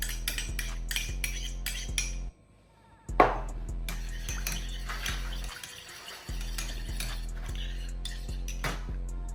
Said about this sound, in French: je chauffe légèrement la gelée de pomme que je vais mélanger